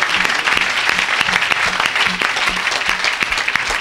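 Lively applause from a church congregation at a worship service, a dense, sustained clatter of many hands clapping with a rhythmic pulse, loud and close throughout.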